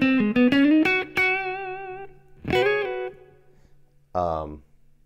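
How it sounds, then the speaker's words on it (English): Clean electric guitar notes and chords through a Dumble amp profile ring out with a warm, slightly driven tone, a few struck phrases decaying between pauses, close and moderately loud. "then we're going to do the Dumble ODS into my mid-gain Dumble"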